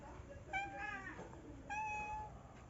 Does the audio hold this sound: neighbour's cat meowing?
yes